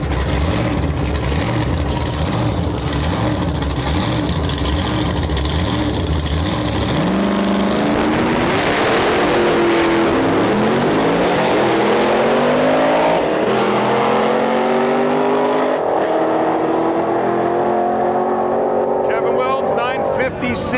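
A very loud drag racing car launches down the strip at a drag-and-drive event, first idling roughly, then roaring into a rising, swelling acceleration that fades as it pulls away, with a person shouting over it.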